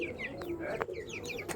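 Chickens and chicks clucking and cheeping nearby in a continuous busy chatter, with a few soft knocks and thumps in the background; no one talks.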